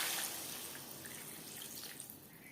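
Water pours steadily into a potato and pointed gourd curry in a pan, a continuous close splashing hiss that slowly eases, with no talking.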